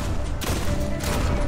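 Rapid gunfire from a VR shooter game, a dense continuous rattle of shots filling the whole moment at close range and steady loudness, with a sharper burst partway through.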